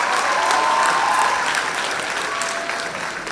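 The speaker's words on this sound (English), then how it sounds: "You can give yourself an applause" Graduates and audience at a college graduation and diploma ceremony break into loud, sustained applause filling the hall, tapering slightly toward the end.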